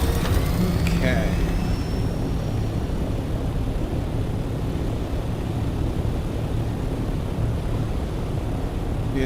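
Aircraft flying in Dune Awakening, a steady, dense rushing engine drone that holds at an even level throughout, with a brief higher whine near the start.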